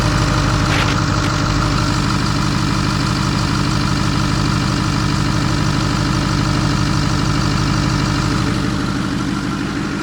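Ford 6.4 diesel engine with a new long block, running at a smooth steady idle, loud and close with a continuous low rumble and rhythmic clatter, no voices.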